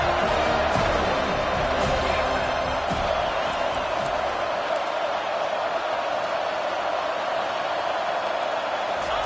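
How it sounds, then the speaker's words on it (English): A stadium crowd in an NCAA college football video game keeps up a dense, constant roar of cheering as fans rally behind the defense on a third down; no one speaks. "Decibels rising as the crowd gets behind this defense on third down."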